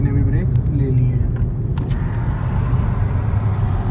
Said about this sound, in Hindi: वो भाई की भी गाड़ी आ गई है, भाई ने भी ब्रेक ले लिए हैं